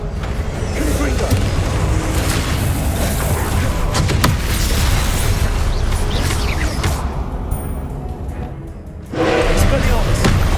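Confringo fire-blast spell bursts in Hogwarts Legacy, loud booming thuds and crackling impacts over a constant rumbling game soundscape, with a sharp blast near four seconds and another surge near nine seconds.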